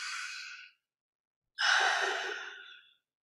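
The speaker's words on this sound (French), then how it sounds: "Prendre un coup de respiration." A slow deep breath during a breathing exercise: a soft airy inhale, a pause of near silence, then a longer, fuller exhale, close and alone.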